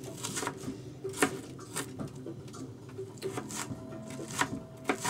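Onion being sliced with a ceramic Yoshi knife on a cutting board, giving a run of light, irregular crisp taps and cuts, close up and fairly quiet, with no talking.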